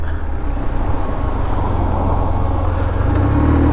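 A car backing up, heard as a continuous low engine rumble with road noise, close and steady over several seconds.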